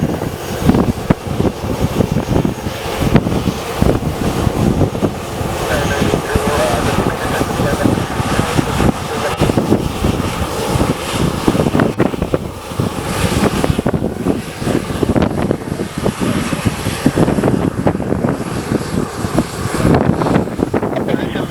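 Boeing 737 airliners from IAero Airways, Delta and American Airlines depart St. Kitts airport with a loud, continuous jet engine roar that holds steady throughout.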